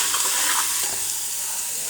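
Onion paste, boiled over hot embers, hits spicy red tempering oil and gives off a steady, bright frying hiss that holds evenly through a short stretch, with a faint stir or two beneath.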